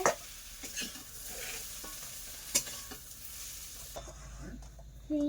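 Eggplant slices sizzle in a pan in a home kitchen, with utensil scrapes and clinks as they are stirred, until the frying drops away near the end and a brief voice follows.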